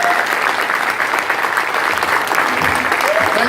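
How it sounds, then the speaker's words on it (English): Steady, dense applause from a crowd at a political speech, sustained and loud throughout with no pauses. "give this man a round of applause"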